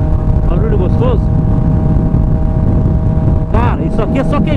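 A Honda CB 1000R motorcycle's exhaust rumbles at a steady idle nearby, deep and loud throughout, while someone talks over it at the beginning and end.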